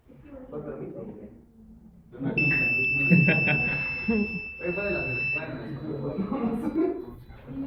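A motion detector alarm in a home security setup gives off a steady high electronic tone for about three seconds. People talk over it and before and after it.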